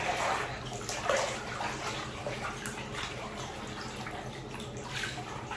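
Water running steadily into a bathtub, a continuous broadband rush with soft gurgling, fairly close and alone with no talk.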